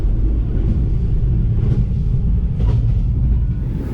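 Inside a moving KA Gunung Jati passenger train between Jakarta and Cirebon, a heavy, steady low rumble fills the carriage, with faint rattles on top and no talking.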